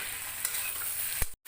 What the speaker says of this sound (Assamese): আৰু এইখিনি মই এতিয়া 15 মিনিটমান ভাজি থাকিম।